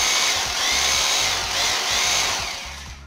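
A Bosch GBH 2-26 DRE rotary hammer drill runs steadily for about three seconds, a loud, close mechanical whir with a rapid hammering pulse and slight swells in intensity, with no voices.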